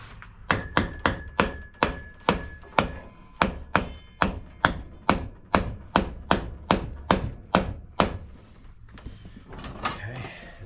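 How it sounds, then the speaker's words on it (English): Hammer taps drive a part down during a bellows restoration: about twenty sharp, evenly spaced blows in a steady rhythm, close and distinct, then a short pause with faint handling sounds at the end. "Where's the hammer at? I'm gonna be able to tap this thing down just a touch."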